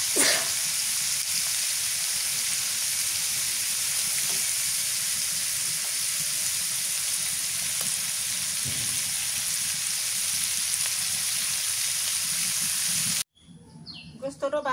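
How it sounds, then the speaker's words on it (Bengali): Beef sizzles and fries in oil in a pot on a clay stove in a village setting, a loud, steady crackle lasting most of the time before cutting off abruptly near the end, with faint birds in the background. "গোস্তটা ভাজা হয়ে গেছে, এখন করে তেল দিয়ে দেই।"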